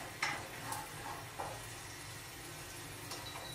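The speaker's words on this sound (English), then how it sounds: "And next, garlic. And stir nicely." Garlic sizzles softly in a pan while being stirred, with a quiet steady fry hiss and a few light clicks and scrapes of the utensil against the pan.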